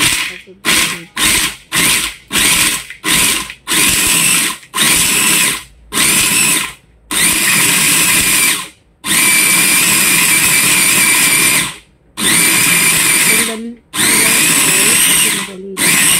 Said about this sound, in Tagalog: Huwag ka agad, dahan-dahan lang sa pag-blend.